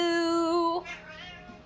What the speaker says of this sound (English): Do you guys hear when she meows?